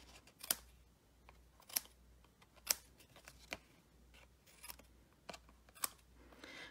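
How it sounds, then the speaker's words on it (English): Scissors snip around stamped paper circles on a card, giving a handful of crisp, close cuts spaced irregularly over a quiet background, with no voices. "So now I'm going to just trim all of the circles that are out of bounds."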